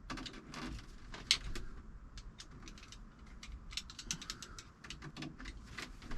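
Tool clicks while tightening fasteners on a MAXXair roof fan motor during reassembly: rapid, faint ratcheting ticks in uneven bursts, close by, with no talk.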